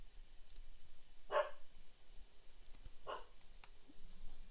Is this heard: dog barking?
yes